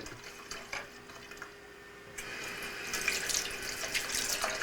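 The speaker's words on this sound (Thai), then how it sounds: "ล้างมือ" Tap water runs into a sink while hands are washed, a steady hiss that starts faint and swells louder partway through, with splashing and small drips, no talking.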